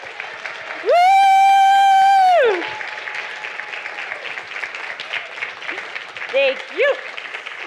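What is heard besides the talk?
audience applauding lab members at a lecture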